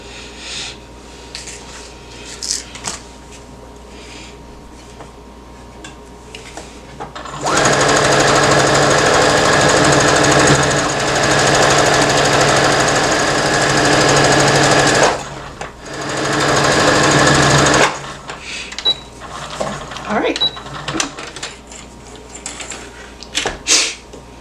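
A sewing machine stitches the inseam of a romper in one loud, steady run of about eight seconds, then a shorter burst follows after a brief pause, with quieter handling noise before and after.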